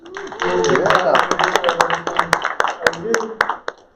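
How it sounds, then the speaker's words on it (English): A crowd gives a round of applause for an honoree at a veterans' celebration and pitch competition, with scattered sharp claps rising and thinning under a voice over the public address. "A round of applause for her"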